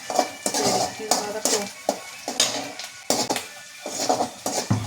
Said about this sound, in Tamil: ஒரு பெரிய வெங்காயத்தை பொடிசாக வெட்டி நல்லா வதக்கிக்கணும்